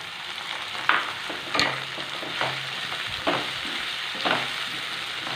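Medium-size potatoes frying with onions in a hot pan for a beans and potato masala, with a steady sizzle broken by several distinct scraping stirs at regular intervals, close and with no voices.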